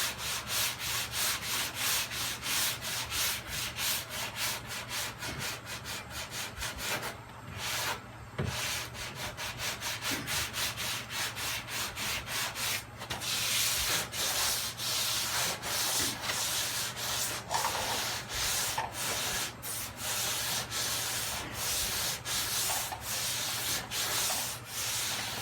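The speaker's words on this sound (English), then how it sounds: "I'm still pushing the sander through the putty." Power sander grinding through body putty on a Camry's bodywork, a steady continuous abrasive rasp with rhythmic stroke pulses, close and loud throughout with no talking.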